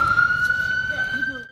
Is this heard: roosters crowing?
no